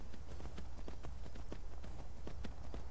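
Horse hooves clip-clop in a steady, quick rhythm as a mount travels through snowy hills and trees in Skyrim, the sharp hoofbeats loud and close over a low constant rumble.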